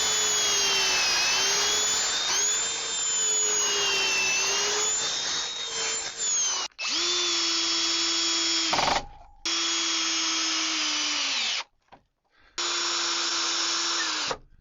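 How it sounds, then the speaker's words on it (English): Power drill boring pocket holes into wooden blocks through a Kreg Pocket Hole Jig for attic shelving, a loud close whine running steadily, then several shorter bursts separated by brief pauses. "Next we drilled pocket holes with the Kreg Pocket Hole Jig"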